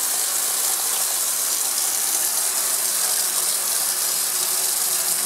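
A steady, even hiss of air and water being drawn through a vacuum filtration setup in a lab, continuous and close, with no talking.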